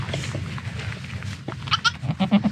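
A goat bleats on a farm with several short cries toward the end, close and clear over a low background rumble.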